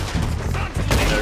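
A quick volley of gunshots rings out in Red Dead Redemption 2, with a few loud, close cracks in a brief burst over a dense background.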